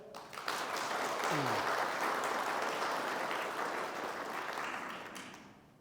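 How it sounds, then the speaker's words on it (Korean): Group applause at a company all-staff meeting, a steady wash of clapping that fills the room for several seconds, with a brief voice near the start, before fading out. "박수 한번 할까요?"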